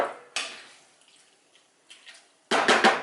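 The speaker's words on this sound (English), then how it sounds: "I'm going to add a bit of water to make a bit more gravy." Water splashes and sizzles into a hot pan of herbed beef stir fry, a quiet pour at first, then a loud, hissing burst near the end.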